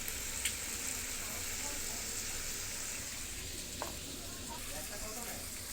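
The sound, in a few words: curry sizzling in pan with red chilli powder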